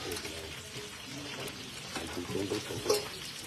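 Tilapia fish frying until crispy in oil gives a soft, steady sizzle with small crackles and spatters, fairly quiet and continuous throughout.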